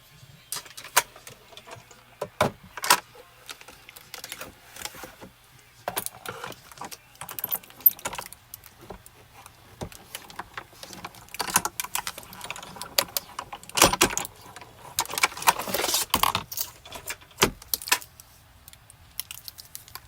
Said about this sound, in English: So we are now going to run that through the platinum.